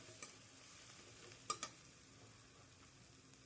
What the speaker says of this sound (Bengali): 5 মিনিট ধরে মশলাটাকে ভালোভাবে ভেজে নেব।